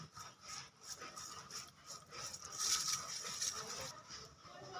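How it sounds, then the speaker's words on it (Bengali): Spice paste of turmeric and cumin powder worked together with a little oil by hand for village-style masala fish fry, a quiet, continuous wet rubbing and squishing with no pauses. "এবার মশলাটা মিক্স করে নেব ভালো করে।"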